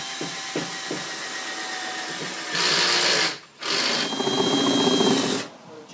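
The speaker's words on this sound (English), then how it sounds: "I'm going to drill a hole down at the farthest bottom part of the bin" A power drill bores a hole into the bottom of a plastic worm bin, running in two steady whining bursts with a brief stop between, loud and close, after a stretch of quieter background noise.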